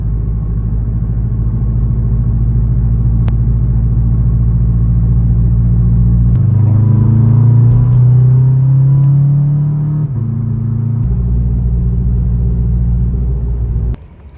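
A Scion FR-S driving on the road, heard from inside as a steady loud engine rumble and road drone; midway the engine pulls up in pitch under acceleration, then settles back to a constant cruise before a sudden cutoff.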